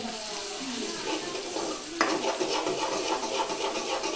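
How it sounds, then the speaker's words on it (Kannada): Chicken with garlic-ginger paste is stirred in hot oil for Chicken Sukka, giving a continuous close sizzle with scraping stirs that grow louder partway through. "ಅದೇ ಎಣ್ಣೆಯಲ್ಲಿ ಅದನ್ನು ಚೆನ್ನಾಗಿ ಮಿಕ್ಸ್ ಮಾಡ್ಕೊಳ್ಳಿ."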